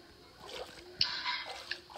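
Water splashes while swimming in a Minecraft lake, a few soft, quiet splashes and sloshes, one sharper splash near the middle, with faint background hiss.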